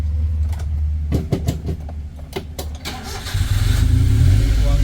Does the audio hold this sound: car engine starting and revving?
yes